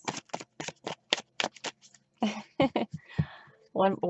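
Tarot cards shuffled in several quick riffles, crisp and close, with brief speech breaking in between and near the end.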